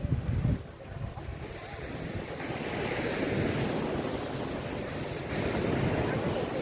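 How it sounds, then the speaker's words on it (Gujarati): Sea waves roll and wash along the shore at Diu, a steady broad surf that swells louder partway through, with wind buffeting the microphone and no voices. "દીવનો નજારો દરિયાનો તમે જોઈ શકો છો"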